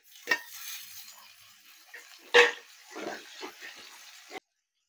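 Tomato pieces fry with curry leaves in a pan for gongura rice, with scraping stirs from a utensil and soft sizzling between them, close and moderately loud.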